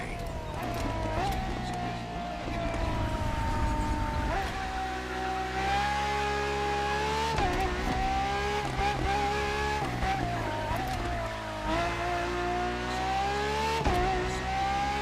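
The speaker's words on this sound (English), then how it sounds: "for this second lap, you'll be driving the FXXK" The Ferrari FXXK race car in The Crew Motorfest revs hard, its high engine whine climbing and falling through repeated gear changes over a steady low rumble, loud and close throughout.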